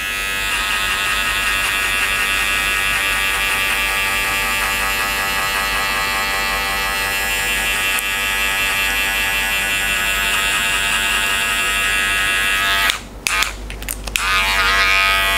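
Electric hair clippers with a blade and number one guard buzz steadily and closely throughout while cutting a skin fade, with a few brief interruptions near the end.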